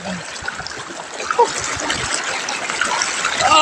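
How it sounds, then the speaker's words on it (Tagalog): Rushing water of the strong Palakol River current in Floridablanca flows steadily and fairly loudly, with faint voices mixed in underneath. "Oh, ang lakas ng agos"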